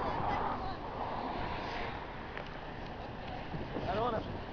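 Geese honk in a faint outdoor flock by the water, a few scattered calls over steady wind noise and low voices.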